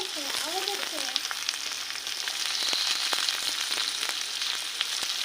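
Raw tomatoes frying in a pan for a fish dish, a loud continuous sizzle with scattered crackles, steady throughout.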